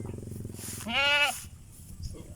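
A young goat lets out one clear, wavering bleat at close range, lasting about half a second amid faint background noise.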